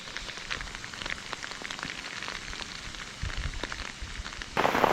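Steady rain pours down on farmland during ploughing, with dense, continuous patter, growing louder and heavier toward the end.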